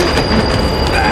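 Train passing close by, a loud, steady rush of wheels and rail noise with a high squealing whine running through it, continuous with no voices.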